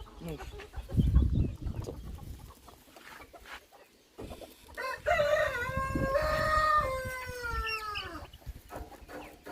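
Chickens, including a yellow Brahma, cluck nearby, followed by a drawn-out rooster-like crow that stands out clearly, with light movement and background noise around it.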